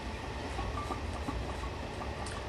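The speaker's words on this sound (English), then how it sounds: "it's lovely to see two engines working in tandem on a nice big long goods train" Two steam engines pull a long goods train in a train simulator game, producing a steady, low rumble of rolling wagons with a faint rhythmic clatter and no talk.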